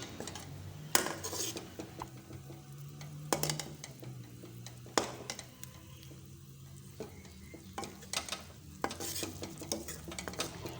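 Chicken cooking in masala in a pot, sizzling and frying while a spoon repeatedly scrapes and clinks against the metal in irregular strokes, close and fairly quiet.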